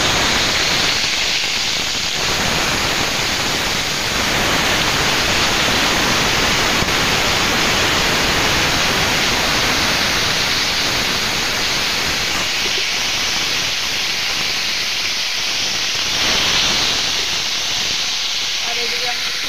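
Cut potatoes dropped into hot oil with panch phoron, sizzling in a loud, steady hiss for the whole stretch, someone talking over the frying.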